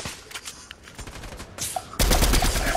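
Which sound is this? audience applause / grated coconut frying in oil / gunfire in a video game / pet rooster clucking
gunfire in a video game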